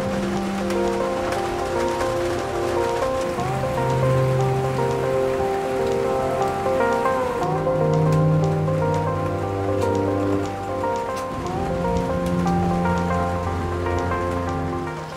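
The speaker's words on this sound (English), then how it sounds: "Sorry if you hear rain. It just started raining" Steady rain falls outside a bus being converted into a home, an even patter holding for about fifteen seconds. Musical tones run over it throughout, with no speech.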